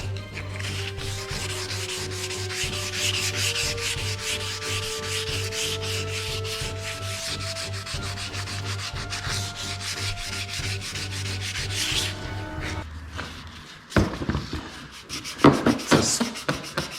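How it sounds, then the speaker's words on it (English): A dual-action sander with 80-grit paper strips car body parts for a Z28, a steady close, continuous rubbing whir that runs for about twelve seconds before breaking into scattered handling scrapes and knocks. "To strip these two pieces, I used 80 grit on the DA, and then I went back to 320 to smooth it back out"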